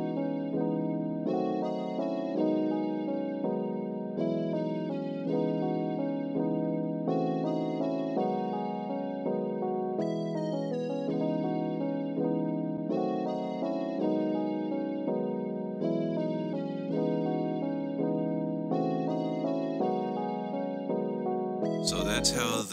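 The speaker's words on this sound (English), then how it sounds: "So that's how the Pretty Suitcase and cheap lead sound together in this melody I made up." Synth beat in a plugg n b style: warm Pretty Suitcase electric piano chords repeat under a thin, cheap lead synth melody, steady and loud throughout with no voice, ending in a sudden low thump.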